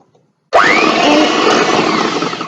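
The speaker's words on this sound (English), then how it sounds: "I'm going to beat it for at least 8 minutes" An electric mixer at high speed beats eggs and sugar, starting abruptly with a rising whine and then settling into a loud, steady whirring drone.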